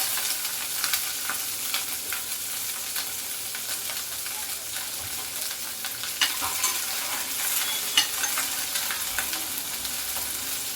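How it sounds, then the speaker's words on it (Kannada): Chopped ingredients frying in a little oil for a spinach (palak) chutney, giving a steady, fairly quiet sizzle with faint stirring scrapes throughout and no talk. "ಇದು ಸ್ವಲ್ಪ ಎಣ್ಣೆಗೆ ಫ್ರೈ ಆಗಬೇಕು."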